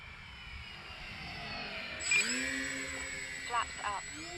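A radio-controlled airplane with landing flaps lowered flies past, its electric motor whining steadily and rising in pitch as it draws near, while someone talks briefly over it.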